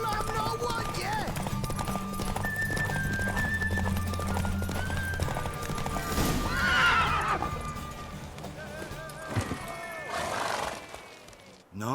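Horses gallop and neigh during a race in The Witcher III, hoofbeats drumming steadily under repeated whinnies, with speech and game sounds layered over the running throughout.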